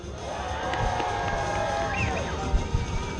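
An excitable New York crowd cheering before a kart race, a continuous mass of voices and shouts at moderate loudness, with a couple of louder whoops near the end.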